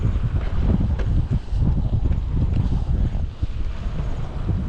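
Steady wind buffets the microphone of a touring-modified Honda Wave motorbike during a rest stop, a continuous low roar, loud and close, with gusts swelling and dipping throughout and no voices.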